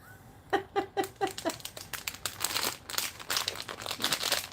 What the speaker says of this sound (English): Unfurl the package.